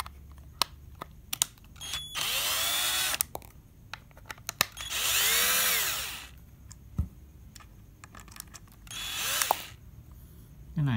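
A power screwdriver runs in three whirring bursts of about a second or two each while opening a 1.5Ah 12V battery pack from Ingco, with small clicks and handling taps between them and no talk.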